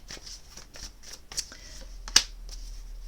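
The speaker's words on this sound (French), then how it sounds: "Je vais rajouter une carte quand même sur ce page d'épée." Tarot cards being shuffled and drawn, with a run of soft, close papery riffles and slides, one sharper snap as a card is pulled, all fairly quiet.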